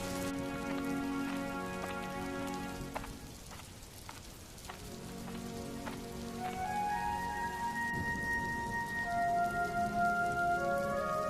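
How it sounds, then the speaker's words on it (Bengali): Cartoon storm rain pours down in a steady wash of drops, while sustained tonal music plays over and around it; no voices are heard. "যা ঝড় বৃষ্টির দাপট!"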